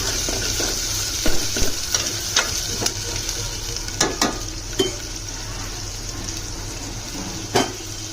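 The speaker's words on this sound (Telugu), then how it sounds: "ఉల్లిగడ్డలు వేసుకొని మంచిగా ఏగనేయాలి కొంచెం" Onions fry in a pan with a constant sizzle, broken by sharp, irregular clacks of a spoon stirring against the pan.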